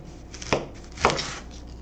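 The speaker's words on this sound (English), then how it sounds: "we're going to cut off the ends of the onion" A kitchen knife cuts the ends off an onion on a board in two quick, crisp strokes about half a second apart. The cuts are close and fairly soft, with quiet room hiss between them.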